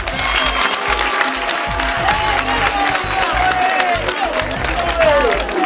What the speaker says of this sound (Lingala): Bobeta maboko di.